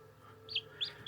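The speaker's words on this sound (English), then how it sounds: "That's a chicken." A chicken gives three short, faint clucks in quick succession over a low background hum.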